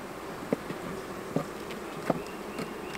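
Honey bees buzz steadily around an opened hive during an inspection, a soft continuous drone close by with occasional louder passes as individual bees fly near, and no speech.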